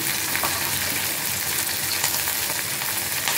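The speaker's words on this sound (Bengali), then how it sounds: "লঙ্কা গুঁড়ো, মশলাটা কষানো হয়ে যাচ্ছে" Spice paste with ginger paste, turmeric, salt and chilli powder frying in oil in a pan; a dense, even sizzle that runs steadily throughout with faint stirring.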